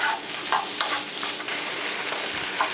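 Sausages, onion and red pepper sizzle steadily in a pan while being stirred, with soft scraping and clinking of the utensil on top of a continuous frying hiss, close and clear with no talking.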